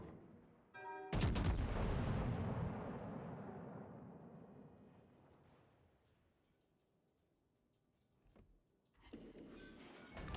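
Naval gunfire in World of Warships: a single loud, booming salvo cracks out and then rumbles away over several seconds, followed later by fainter mechanical clicks and a rising rush of noise.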